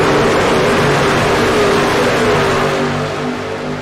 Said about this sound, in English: Love the sound of those engines spooling up as they get through the tri-oval